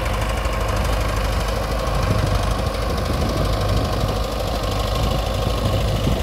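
A tractor engine runs loud and close while it is used to destroy a wheat crop in a field, giving a continuous knocking diesel rumble with slight rhythmic variation throughout and no talk.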